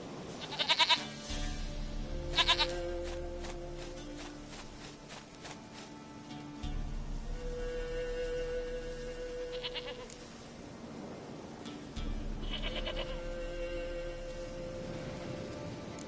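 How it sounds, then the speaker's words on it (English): Goat bleating in The Witcher 3: Wild Hunt, several wavering bleats standing out over a steady rain ambience and low game background sounds, with no talking. "Goat of mine, dearest, sweetest goat."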